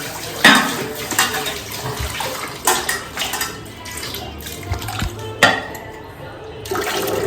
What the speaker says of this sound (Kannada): ನೀರು ಜಾಸ್ತಿ ಬಿಟ್ಕೊಂಡಿದ್ಯಾ.